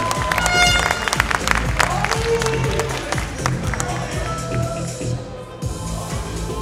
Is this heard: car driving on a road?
no